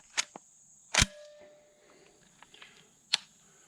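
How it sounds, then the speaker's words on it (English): A Landor Arms BPX902 Gen 2 bullpup foam blaster fires a few sharp, snappy shots close up at uneven intervals, with faint mechanical clatter between them. "I want to see if it captures this charging handle moving out while I'm shooting."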